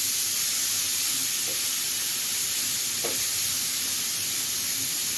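Chopped green chilli fries with asafoetida in an oily pan, a loud steady sizzle with faint stirring scrapes over it.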